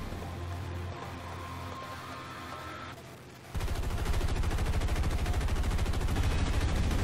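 Aircraft machine guns in the War Thunder flight game, a sustained rapid burst of loud close gunfire after a quieter stretch of engine drone and game noise.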